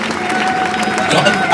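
A crowd at a memorial gathering at a mausoleum applauds and cheers, a steady dense wash of clapping and voices, with someone speaking over it.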